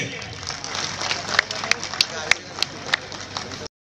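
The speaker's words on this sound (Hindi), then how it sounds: "तालियां बजती रहनी चाहिए।" Crowd applause fills a mass wedding ceremony hosted by a community service society, a dense steady patter with several sharper claps standing out near the middle and end before it cuts off abruptly.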